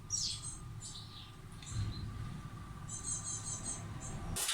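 Sparrows living in an attic chirp in several bright bursts over a quiet morning background, with no talk.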